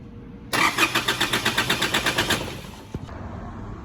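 Isuzu D-Max diesel engine with a hard-start fault cranks close up in a rapid, even train of starter pulses for about two seconds, then cuts off with a single knock and no catch.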